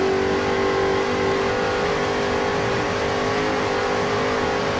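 Racing powerboat engine of Team Yahoo during an offshore race off Corpus Christi, Texas, a steady loud drone heard onboard, continuous and unchanging with no voices.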